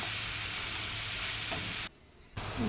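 Grated papaya sizzling and being stirred in a frying pan, a steady close hiss broken by a short quiet gap before frying resumes.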